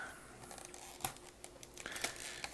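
Model kit packaging being cut open with a blade, crinkly plastic rustles and a couple of sharper snips or tears, close and fairly quiet with no talking.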